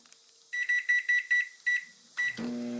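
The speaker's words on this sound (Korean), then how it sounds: "여기 전자레인지에다가 놓고 6분을 돌리면 된다고 하니까" A microwave oven heating a ready-made rice bowl meal: a run of about six short, bright electronic beeps as it is set, a final beep, then the steady hum of the oven starting up.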